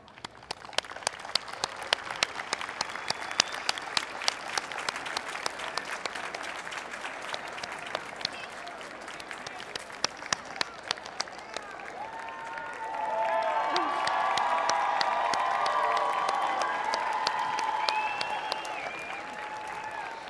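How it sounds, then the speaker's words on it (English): A graduation ceremony crowd at Highline High School's 2023 commencement applauds, with steady, moderately distant clapping that swells louder with some cheering in the latter half. "stand with me and let's get an applause for our supporters"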